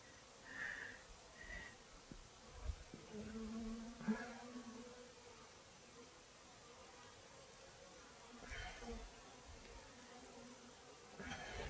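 Honeybees buzzing around a hive frame during queen rearing, a low, steady, faint hum under broad background noise, with brief louder buzzes of bees passing close.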